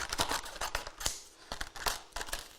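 Scissors trimming a sheet of Centura Pearl card for a frame-making die project, a steady series of close, crisp snipping cuts repeating throughout with no talk.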